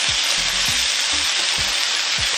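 Nasi goreng fried rice being stirred in a hot pan, a steady loud sizzle with low scraping thumps of the utensil repeating every half second or so, no talking.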